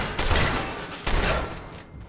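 Two booming shotgun blasts from Fallout 4 sound close and loud, about a second apart, each decaying into a rumbling tail with no talking.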